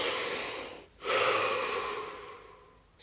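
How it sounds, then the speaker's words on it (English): A deep breath during guided relaxation, with a long audible inhale, a short pause, then a slow, fading exhale, heard close and alone. "Deep breath."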